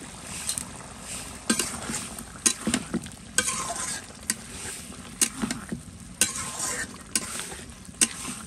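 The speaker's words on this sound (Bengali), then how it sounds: "এটা কিন্তু তেল ছাড়া দিচ্ছে মশলাটায়" Spice paste is stirred and fried in a pan without oil, giving a faint background sizzle broken by frequent scraping and clattering strokes of the spoon in an uneven rhythm.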